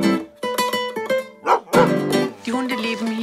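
Several dogs at an animal shelter bark in quick, close bursts with yips and a whimpering whine between them, loud and overlapping in a kennel room.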